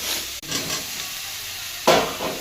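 Pumpkin and vegetables for a vegetarian pumpkin curry fry in a pan with a steady, close sizzle, a sharp burst of hissing flaring up near the end as they are stirred.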